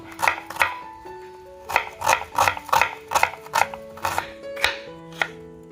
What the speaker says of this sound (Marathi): कोळंबी बनवण्यासाठी आपण दोन टोमॅटो घेतलेत आणि दोन कांदे घेतले त्यांना बारीक कापून घ्यायचंय